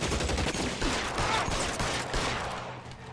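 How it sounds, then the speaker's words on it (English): A dense shootout in the L.A. Noire video game, with sustained rapid gunfire and overlapping shots blending into a continuous roar that tapers off slightly at the end. "More shooting."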